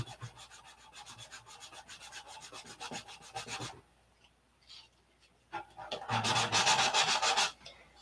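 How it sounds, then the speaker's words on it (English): Wood being hand-sanded ahead of painting, a rapid rhythmic scratch of back-and-forth strokes that pauses midway, then returns harder and louder in a dense burst near the end. "So you have to sand out the mistakes before you put any paint on"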